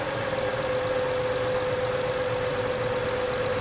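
A 2017 Chrysler Pacifica engine idles steadily right after an oil change, a loud, even mechanical drone with a constant whine and faint ticking, no voices.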